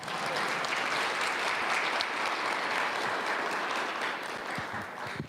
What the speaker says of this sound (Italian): Forte l'applauso!